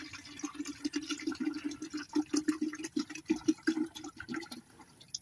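Water mixed with Zonrox bleach pouring into a poultry waterer, a steady close splashing trickle with a gurgling pulse, alone without talk.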